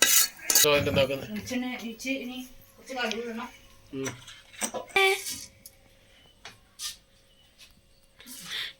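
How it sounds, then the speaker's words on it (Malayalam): Fried, browned ingredients for ginger-tamarind pickle scraped from a pan into another bowl, with clinks and scrapes of a spoon against metal between stretches of talk. "നമുക്കിത് വേറെ ഒരു കോപ്പയിലേക്ക് മാറ്റി കൊടുക്കാം"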